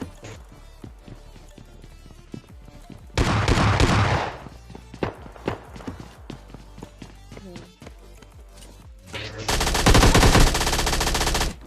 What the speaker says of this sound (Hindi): सामने वाले अपार्टमेंट से फायरिंग की आवाज आ रही थी